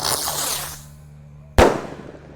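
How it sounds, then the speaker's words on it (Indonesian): Mini Circle Blitz Roman Candle firework at a night celebration, a fizzing crackle tailing off, then one sharp loud bang with a decaying burst afterward. "di sini ada Circle Blitz Roman Candle guys, ukuran mini"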